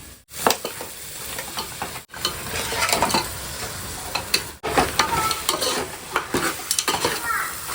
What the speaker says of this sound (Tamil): இப்போ வந்து நம்ம கறி போட்டு அந்த எண்ணெயிலே கொஞ்சம் வேக வைக்கலாம்